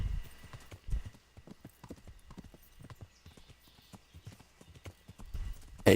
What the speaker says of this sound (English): Go, you dumbass horse.